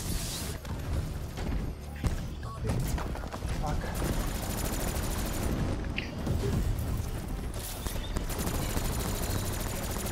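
Gunfire rattles in Gorod Krovi, a zombies map in a Call of Duty video game, with sustained automatic bursts and booming impacts layered over a busy game mix.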